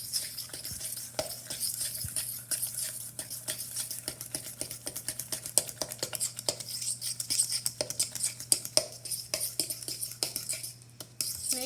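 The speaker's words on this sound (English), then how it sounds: "now we're going to mix our eggs into the rest of the ingredients using our fork" A fork whisks eggs into cupcake batter in a bowl, making quick, continuous metallic clinks and scrapes against the sides, close and steady, with no talking.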